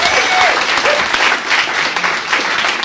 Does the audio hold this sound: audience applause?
yes